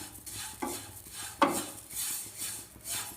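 A spoon stirring semai fried in ghee in a pan makes soft scraping strokes with a faint sizzle underneath, quiet and close, with a sharper clink now and then.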